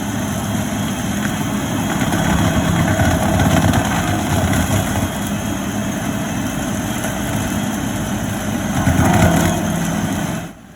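Tractor engine running steadily in a vineyard during vine removal, a loud, continuous close-up rumble with a brief surge in revs near the end.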